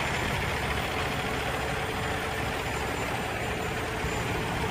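A 2018 Kenworth T880 heavy-haul truck idles with a steady, dense diesel rumble and no change in level, heard up close without speech.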